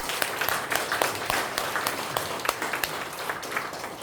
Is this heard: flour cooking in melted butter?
no